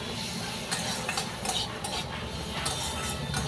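Spice paste with potato and pointed gourd being sautéed over a lowered gas flame for a fish curry, continuous sizzling with repeated spatula scrapes and stirs in the pan.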